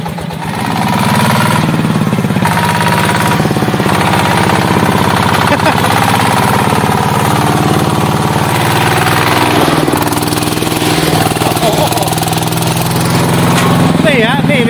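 A modified farm tractor fitted with a new Yanmar 160 engine runs loud and close, a steady chugging mechanical drone that holds unbroken throughout, with people talking over it.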